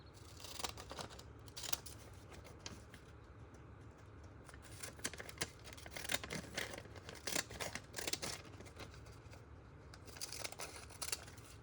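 Scissors trim magazine cut-outs of a longhorn and other fussy-cut pictures, a long run of quiet, crisp snips in uneven bursts, close up and with no talking.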